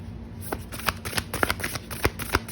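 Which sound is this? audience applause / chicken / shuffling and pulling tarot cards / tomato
shuffling and pulling tarot cards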